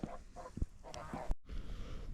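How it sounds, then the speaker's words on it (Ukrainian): Geese honk in a series of nasal calls close by, some overlapping, followed by a brief dropout and softer background noise. "Гуси кажуть, да-да-да."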